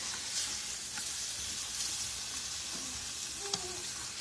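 Pancakes and sausage frying in a pan on a small stove burner, a steady close sizzle with faint clicks and scrapes throughout.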